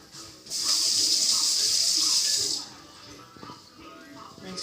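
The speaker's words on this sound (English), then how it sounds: "Rinsed off my fork." Water from a kitchen tap runs loudly over a fork being rinsed for about two seconds, a bright close hiss that then cuts off, leaving quiet kitchen sounds.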